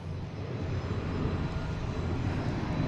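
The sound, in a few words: Copa airliner taking off at Boston Logan Airport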